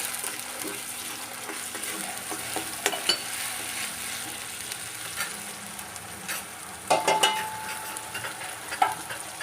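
Onion paste sizzles gently in a pan over a low gas flame, a steady soft frying hiss with occasional scraping clicks from a spoon stirring it.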